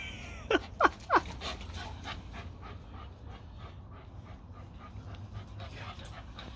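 Dogs panting and whimpering nearby, with three sharp high yips early on followed by steady rhythmic panting breaths over a low background hum.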